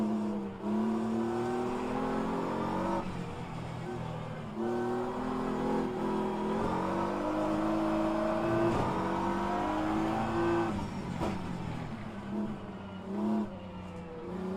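An LMP prototype race car engine in the rFactor 2 racing game at Interlagos, a loud continuous high-revving drone with rising and falling pitch through gear changes, steady throughout.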